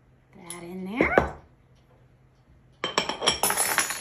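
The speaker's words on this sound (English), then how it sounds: "And just kind of whisk that up of the dry ingredients in the bowl." A whisk scrapes and clinks against a bowl of dry ingredients, flour and salt, in a quick run of close metallic taps after a short stretch of speech.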